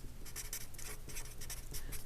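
Marker or chalk scratches across a board as a formula is drawn out, a quick series of close, soft strokes with brief pauses between them.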